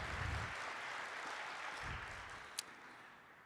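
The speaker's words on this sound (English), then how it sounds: "I'd like you all to just join me in a round of applause for Redesign" Audience applause at a systems-change symposium for the sponsor Redesign, a steady wash of clapping filling the hall at moderate level with low rumbles, no talk over it.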